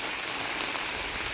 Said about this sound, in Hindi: मूसलाधार बारिश होने लगी।